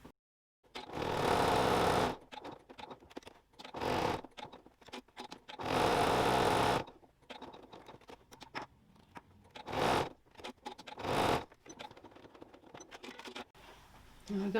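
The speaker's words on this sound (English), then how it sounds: "So I've changed my machine to a zigzag stitch already, and I'll just go around all 4 sides." A sewing machine set to zigzag stitch sews a label onto a fabric wallet in several close, loud bursts of rapid stitching separated by quiet pauses.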